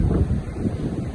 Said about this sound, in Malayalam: അപ്പം നല്ല കാറ്റുണ്ട്.